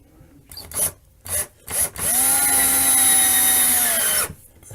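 A power drill drives a screw into new drywall over a wooden stud, starting with a few short bursts, then a steady, loud whirring run of about two seconds before stopping.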